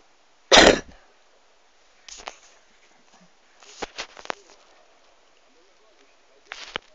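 A person with a cold coughs sharply once, then sniffles and gives smaller coughs and sniffs at intervals against a quiet room, near and distinct.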